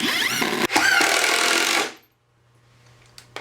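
Power drill driving 2-inch screws through board into board while building a heavy-duty sawhorse in a workshop: one loud, steady whirring burst of almost two seconds, cut by a brief stall, then quiet with a couple of faint knocks.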